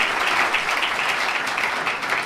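An audience at a lecture on combating violence against women breaks into steady, dense applause, many hands clapping continuously and evenly throughout with no voices standing out.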